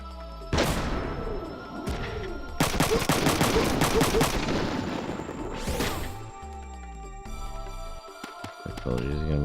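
In the video game Front Mission 3, a grenade blast is followed by bursts of rapid gunfire and crashing impacts, loud and dense, over game music and intermittent voices.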